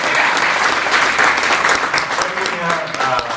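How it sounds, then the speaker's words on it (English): An audience at a community networking event gives a big round of applause, dense and loud clapping filling the whole stretch with a few voices mixed in. "Let's give her a big round of applause."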